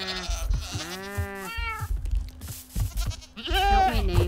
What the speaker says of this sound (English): Love goats.